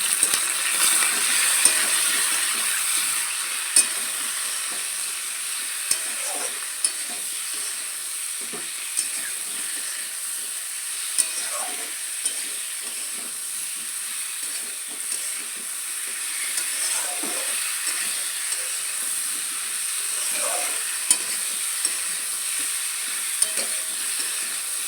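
Turmeric being stirred into hot oil in a pan for a rohu fish curry, giving a steady soft sizzle with scattered light scrapes and taps of a spoon against the pan, close and alone without talk.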